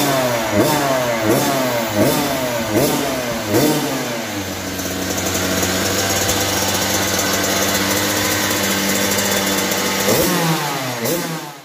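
A high-pitched Kawasaki KX85 two-stroke dirt bike engine revs repeatedly in sharp bursts, then holds a steady buzzing idle before revving again, loud and close.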